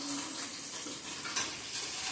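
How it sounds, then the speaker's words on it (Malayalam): Dried red chillies frying in a pan give a steady, close crackling sizzle, with a few light scraping stirs and one brief sharper clink partway through. "മുളക് ഒന്ന് വറുത്തെടുക്കുന്നുണ്ട്."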